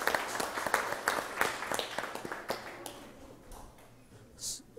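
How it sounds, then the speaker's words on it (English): Applause for Jackie at a Livingston city council meeting, a short round of clapping from a small room that tapers off after about three seconds into quiet. "Let's give a round of applause to Jackie."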